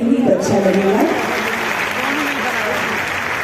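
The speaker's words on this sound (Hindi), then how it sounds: "आपकी तरफ से अगर तालियां बजती रहेंगी तो अच्छा लगेगा" Audience at a police training ceremony applauding steadily, with a voice speaking over the clapping early on.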